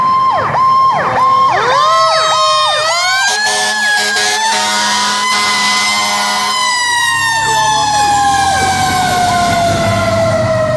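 A College Park volunteer fire department engine sounds its siren while responding to an advanced life support call alongside an ambulance, with rising and falling wails and sharp yelp sweeps that sound loud and close throughout, with no talking.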